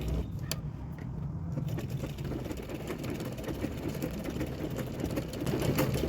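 Sewing machine stitching a princess cut blouse, running steadily with a continuous low mechanical hum and fine needle rattle throughout, close and moderately loud with no talking.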